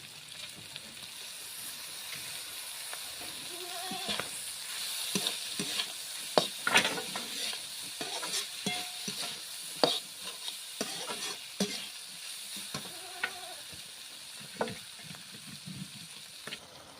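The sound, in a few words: frying chopped tomato with figs and oyster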